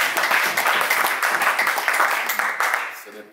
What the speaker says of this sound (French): veillez vraiment à applaudir très fort pour la coopération.